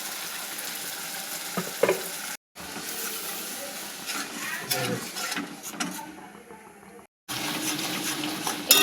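Tomato paste with turmeric and spices frying in oil in a pan gives a steady, close sizzle with occasional stirring scrapes, broken by brief silent cuts.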